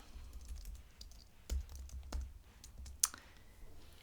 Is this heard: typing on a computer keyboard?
yes